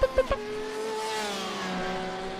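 An Audi endurance race car engine in a Le Mans racing game, a few sharp blips at the start followed by a steady high-pitched engine tone that slowly falls as the car holds speed, fairly close and alone.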